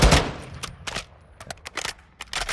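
Assault rifle fire in Call of Duty: Modern Warfare II, short sharp bursts of rapid shots with brief pauses, crisp and fairly close.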